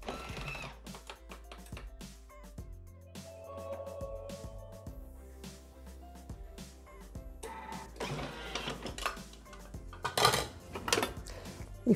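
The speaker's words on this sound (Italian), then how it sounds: "Mettere il formaggio ed accendiamo il bimby per 3 secondi a velocità 7" Thermomix (Bimby) food processor chopping cheese at speed 7, a busy mechanical whir and clatter with knocking and rattling that swells into a louder burst near the end.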